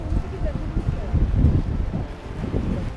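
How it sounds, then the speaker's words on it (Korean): Strong, gusty wind buffets the microphone at a seaside spring festival on the coast, a steady low roar with rustling throughout, and people talk over it. "야, 무슨 바람이 이렇게 불어?"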